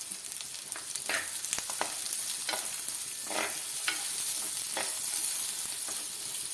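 Chopped onion with a couple of curry leaves sautés in a pan for a green mango curry, a steady hissing sizzle with regular swishing spatula strokes every second or so, close and moderately loud.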